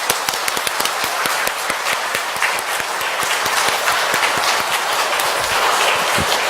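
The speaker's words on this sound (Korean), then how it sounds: "축하의 박수 한번 쳐줄까요?" Parents and family in a church congratulate children at a first communion Mass with loud, sharp clapping, many distinct claps close by, running steadily throughout.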